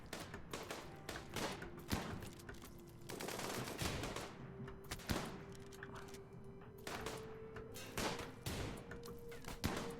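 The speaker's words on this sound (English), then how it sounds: "That was a lot of gunfire for no damage." Repeated bursts of automatic gunfire in the video game RimWorld rattle in uneven clusters over a low droning tone, fairly quiet but sustained, with sharp shots scattered across the whole stretch.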